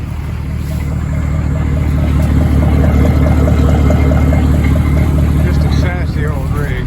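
An old pickup truck, left sitting since 2022, idles and pulls out of its parking spot, a loud, close, steady engine drone with a faint rhythmic chatter, a voice speaking over it briefly near the end.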